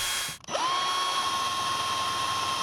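A power drill spins up after a brief pause and whines at a steady, high pitch, drilling holes for a police interceptor car's light bar using its brackets as a guide, close and continuous.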